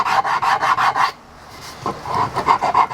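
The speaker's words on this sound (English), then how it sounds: "I've got a piece of walnut right here with some 80 grit sandpaper" Piece of walnut rubbed by hand on 80 grit sandpaper, close rhythmic rasping strokes in two quick bursts separated by a short pause.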